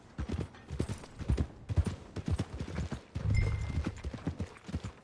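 Horse hooves clip-clop steadily in a video game set near stables, a rhythmic close trotting with a brief louder, denser stretch partway through; no talk.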